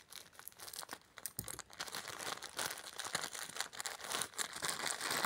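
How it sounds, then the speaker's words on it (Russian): A crinkly cellophane bag wrapping a skein of yarn rustles and crackles continuously, close up, with sharper crunches scattered throughout as the packaging is handled. "Открою упаковочку."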